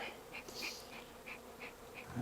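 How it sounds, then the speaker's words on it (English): Honey bees buzz faintly all around a hive in winter, with individual insects droning past in brief swells over a soft steady hum. "They're everywhere. I got bees everywhere."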